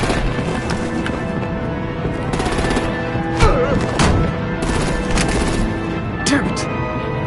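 Bursts of artillery and gunfire in the Batman: The Enemy Within video game, loud rapid volleys layered over a dense mix of game effects and music, with voices talking throughout.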